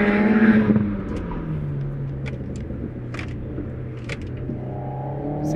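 An Alpine A110 S sports car engine hums and rumbles steadily at close range, with a brief louder rev at the start, then settling into a low idle-like drone.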